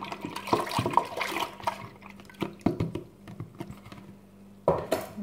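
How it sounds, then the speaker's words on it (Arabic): Milk, a liter of it, splashes and gurgles into a saucepan in a home kitchen, with liquid pouring in uneven bursts alongside clinks of pots and utensils, close and moderately loud. "كنجيب واحد الكنجره كندير فيها هذا الليتر ديال الحليب"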